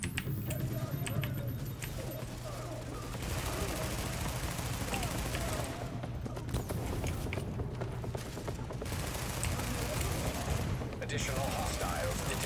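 Sustained gunfire in the video game The Division, dense rapid bursts of shots running throughout under game music and a voice calling out.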